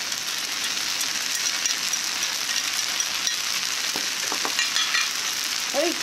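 Colourful vegetables stir-fried for japchae with glass noodles: a dense, even sizzle fills the pan throughout, with a few light clinks of utensils toward the end.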